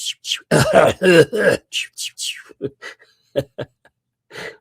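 Several short coughs and throat clears come up close and fairly loud, clustered early and then spaced out more sparsely into softer rasping bursts, with no talking.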